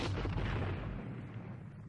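Artillery cannon fire in a battle scene from the 1970 film Waterloo: a single deep boom that rolls out and fades slowly, heard alone.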